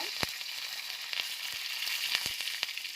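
Dry red chillies and curry leaves frying in oil for a chutney tempering, a soft steady sizzle broken by several sharp spoon clicks and scrapes as they are stirred, no voices.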